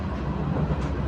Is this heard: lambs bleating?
no